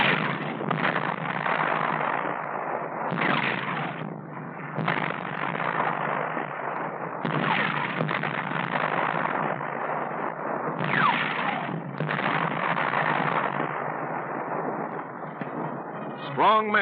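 World War 2 tanks fire their guns on a gunnery range, with repeated booming blasts and rumbling bursts over about seventeen seconds on an old, narrow-band 1941 film soundtrack, some shots overlapping, under a narrator's voice.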